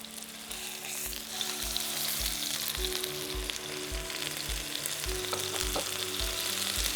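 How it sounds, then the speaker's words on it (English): Salmon searing in a hot pan gives a steady, close sizzle and frying hiss throughout, with a faint regular low thumping in the background and no talking. "we want to sear it for probably about 60 seconds on each side, get a nice caramelization"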